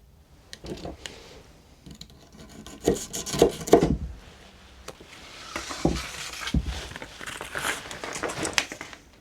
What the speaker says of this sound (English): now I want to get some of this grip tape installed so I don't slip coming in and out of the shed